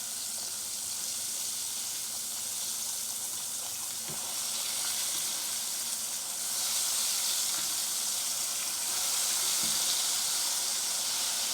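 Strips of fresh pork side bacon fry in a pan over medium-high heat, giving a steady, close sizzle and hiss that swells slightly partway through, with a few faint clicks and no talking.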